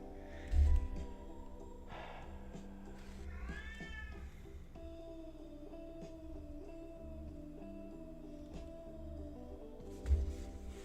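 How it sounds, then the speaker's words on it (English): A cat meows over slow, mournful guitar music, its cries rising briefly through the melody a few times while the guitar carries on steadily. "I don't know if the cat's meowing or singing to this sad guitar."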